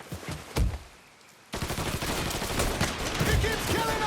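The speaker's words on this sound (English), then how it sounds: "Stop shooting!" Gunfire in Mafia 3, with a sharp shot and a stretch of quiet, then sustained dense bursts of automatic fire that continue without a break.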